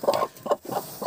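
A broody hen settling onto her nest clucks close by in four short, throaty bursts separated by brief pauses.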